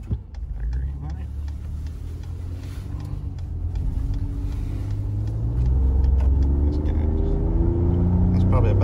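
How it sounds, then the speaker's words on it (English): A 2020 Ford Raptor pickup accelerates at about half throttle from a green light, its engine rumbling low and rising steadily in pitch through the gears, heard from inside the cab with speech over it. "That's probably about half throttle. Wow. Very peppy. It's got some good acceleration."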